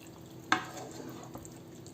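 Spaghetti and shrimp tossed together in a pan, with one sharp clack of a utensil against the pan, then a soft scraping mix over a low background.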